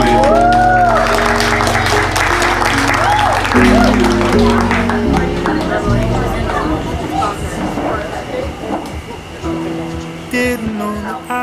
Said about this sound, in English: First dance. Everybody give a round of applause, please.